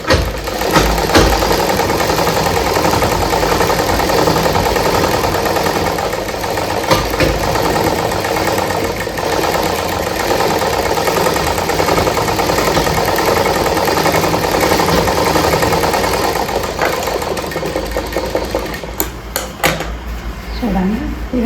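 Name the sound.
sewing machine sewing a double stitch on a blouse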